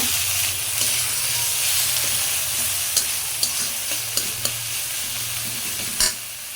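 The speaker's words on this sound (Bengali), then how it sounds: "এখন ভালো করে মশলাটা বাইজে নিব" Spice paste is fried and stirred in a pan for a curry of bottle gourd greens and tilapia, giving a loud, steady sizzle with several sharp spoon taps and scrapes against the pan, close up.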